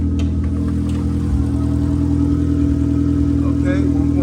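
A 2001 Honda Civic's 1.7 liter engine with 143,000 miles and no catalytic converter runs steadily at idle, giving a loud, continuous low drone with a slight surge partway through.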